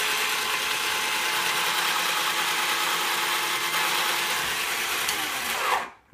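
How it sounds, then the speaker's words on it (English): A 12-volt powered case trimmer trims a bullet case with a loud, steady, high whirring grind that holds for several seconds and then winds down and stops abruptly. "You then need that little tool which trims the case to length"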